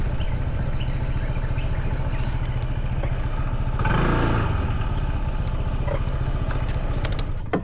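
A boat engine near a river idles steadily and close by, with a rattling mechanical clatter, swelling briefly louder midway before settling back to a constant running drone.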